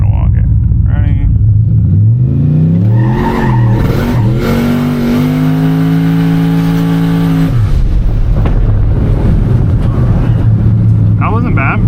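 Turbocharged LS-powered street truck launching hard off the foot brake: a loud engine drone climbs steadily in pitch through several seconds of full-throttle pull, then cuts off abruptly, with voices talking before and after.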